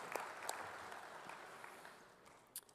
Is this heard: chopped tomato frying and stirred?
no